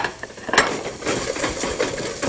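Crushed black pepper and asafoetida fry in a pan on an Indian stovetop, with a soft sizzle under scraping and stirring clatter from a utensil against metal.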